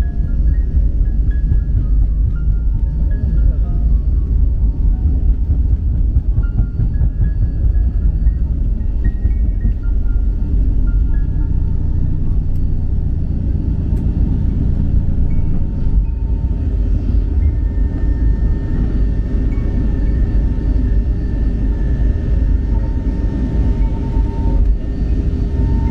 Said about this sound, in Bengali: আমাদের বিমানটি এখন টেক আপ করবে।